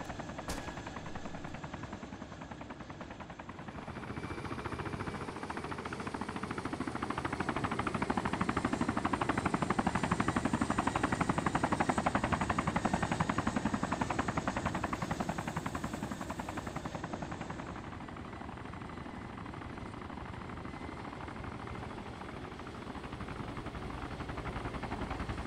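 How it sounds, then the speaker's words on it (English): Helicopters and gunfire in the survival video game DayZ, on the Panthera map: a steady, loud rotor drone that swells in the middle, with bursts of shots mixed into the dense, continuous noise. "Choppers started rolling in, shots started ringing out"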